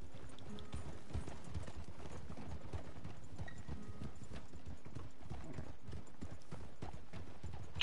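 Horse hooves clip-clop steadily on a trail ride in the video game Red Dead Online, several horses walking close together in a busy, continuous rhythm with a faint whinny.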